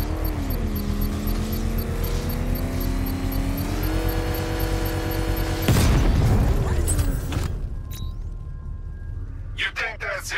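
A controlled explosion of an exposed bomb payload in the Batman: Arkham Knight video game sets off a loud burst with a rumbling tail after mechanical droning and game sounds, then sharp clanks and pops follow.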